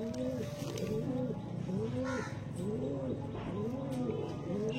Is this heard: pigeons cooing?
yes